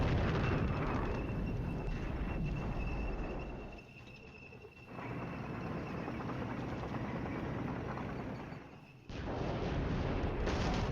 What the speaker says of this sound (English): We're continuing that artillery barrage.